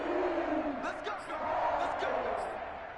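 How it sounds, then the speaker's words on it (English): Football stadium crowd shouting and roaring while a replay is watched, a steady dense wash of many voices with brief louder bursts, fairly near and continuous throughout. "Plenty of shouts from this crowd as they watch the replay."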